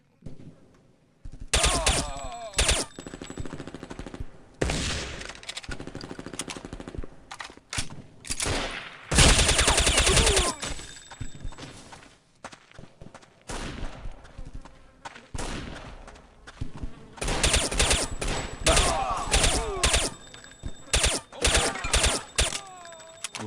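Rapid automatic gunfire bursts in Counter-Strike Condition Zero as a whole magazine is emptied, repeated loud clusters of shots with brief pauses between, sharp and close, continuing across the stretch.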